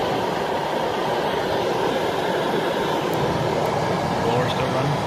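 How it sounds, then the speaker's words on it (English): An HVAC system's blower runs steadily during a service call, a constant broad whooshing rush of moving air that holds at an even, fairly loud level throughout with no breaks. "Blower's still running."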